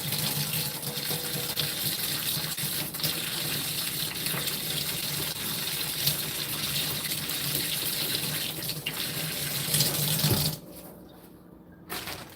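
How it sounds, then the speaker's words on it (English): Hands are washed with soap under a running kitchen tap, and the water gushes steadily and close for about ten seconds before it is shut off. A quieter, damp stillness follows. "I do want to wash my hands. With soap."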